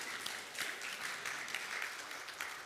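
A church congregation at a Sunday worship service applauds to welcome a family forward: a faint, distant, steady patter of many hands clapping throughout, with no talking.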